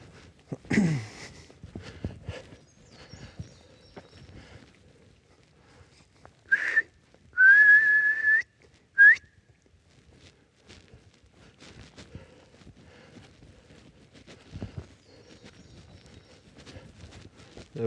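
A person whistles a few short rising notes, then a sustained tone, amid quiet outdoor rustling and footsteps on a sloped hiking trail.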